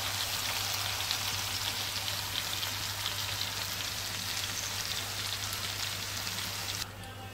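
Vanjaram fish fries in a pan, a dense, even crackling sizzle that holds steady for several seconds and drops off slightly at the very end, with no talking.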